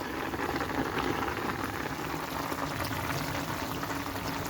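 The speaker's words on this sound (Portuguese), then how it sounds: "Aqui, gente, ó, ele já começou a fritar." Chicken frying in a pan while lunch is cooked, giving a steady, dense crackling sizzle that holds at an even level throughout, close up and with no talking.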